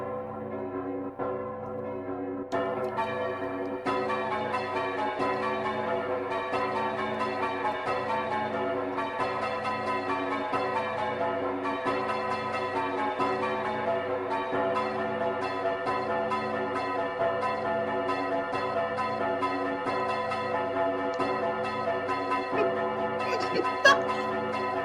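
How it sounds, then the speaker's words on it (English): Two different bell tones from a video game rhythm section, Witness, ring in a quick, regular, repeating pattern over a sustained musical backing, clear and continuous throughout. "the two different sounding bells, I believe, are two different inputs"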